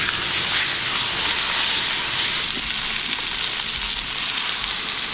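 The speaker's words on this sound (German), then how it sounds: "Das große Stück, da muss man auch anbraten" A large bison steak sears over an open wood fire, giving off a continuous, loud, bright sizzle and hiss of frying meat with no talking.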